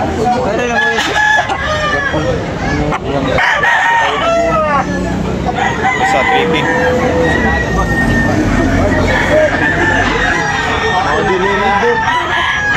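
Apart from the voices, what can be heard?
fighting rooster crowing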